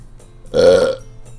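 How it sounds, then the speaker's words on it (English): One loud, close burp lasting about half a second, deep and throaty, alone against a faint low background hum. "I registered that burp as your name."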